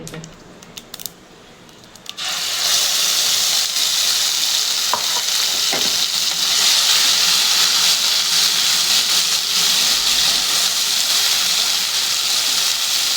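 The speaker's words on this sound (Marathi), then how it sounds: "एक दोन चार मिनटं फक्त भाजणार आहे आपण" A brief quiet moment, then a loud, steady sizzle erupts as ground spice paste hits hot oil in a pan and keeps frying, with a few scraping stirs.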